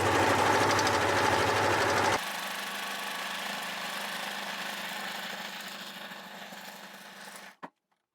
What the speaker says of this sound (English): I always chain stitch, so that just means that I feed one in after the other without cutting the threads